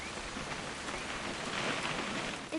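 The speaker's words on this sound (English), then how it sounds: "It's gonna rain the whole weekend, isn't it?" Rain falls steadily in the video game What Remains of Edith Finch, a soft, even hiss of drops that runs faint and unbroken with no voices.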